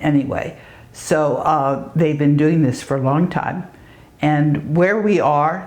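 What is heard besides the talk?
No everyday noises stand out.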